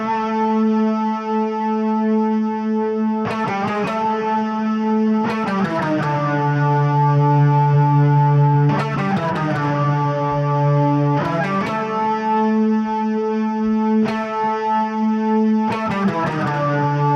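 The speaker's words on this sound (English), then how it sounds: "What's the overtone lead sound like?" A podcast mixer's overtone lead effect processes a sustained synth-like tone rich in stacked harmonics, with loud, distorted chord changes recurring every few seconds and no talking.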